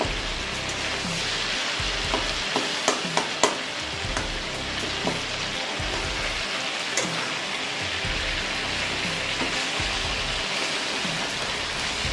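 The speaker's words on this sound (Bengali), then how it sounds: "টমেটোগুলো একটু গলিয়ে দিচ্ছি।" Tomatoes stirred and cooked down in a pan for a fish curry with ridge gourd, pointed gourd and potato, giving a steady close sizzle with scattered spoon scrapes and taps, no voices.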